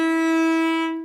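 A single sustained cello note rings clear and alone, bright with overtones, held for about a second before fading out.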